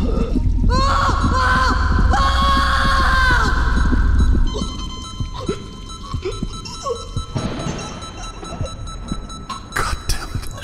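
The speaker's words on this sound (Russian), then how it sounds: "Я слышал крики." Loud, anguished screaming and wailing from a character in the horror video game STASIS, sustained for several seconds, then breaking into gasps, gurgles and thuds under dark ambient noise.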